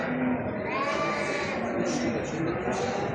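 Qala sheep bleating at a busy livestock bazaar in Mashtaga, several overlapping wavering bleats over a constant crowd murmur, with voices talking nearby.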